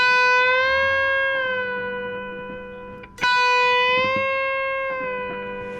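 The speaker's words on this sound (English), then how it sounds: "bend release is when you bend the note up and then you release it back to the original" A distorted electric guitar holds a single sustained note that slowly bends and settles back, then the note is struck again sharply midway and rings out, fading gradually.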